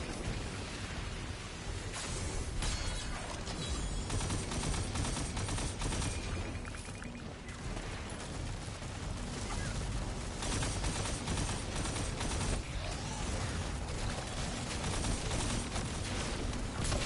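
Turret gunfire in Destiny 2 Onslaught mode: loud, dense, continuous rapid shooting mixed with booming blasts, filling the scene without pause.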